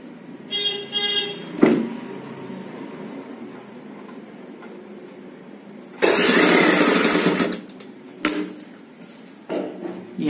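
A sewing machine stitches piping onto a blouse back in short whirring runs, with one longer, louder burst in the middle, close by and alone.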